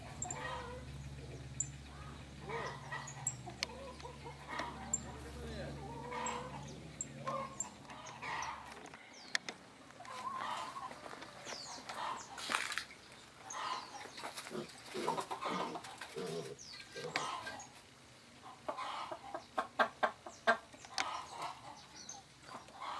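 Chickens on a small rural Brazilian farm cluck in scattered, irregular bursts, with a steady low hum underneath for the first few seconds and no talking.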